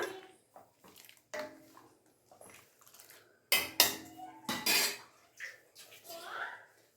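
A spoon stirs sugar into vermicelli payasam in a pot, giving scattered metallic clinks and scrapes against the vessel, moderately close, with quiet pauses between the louder strokes.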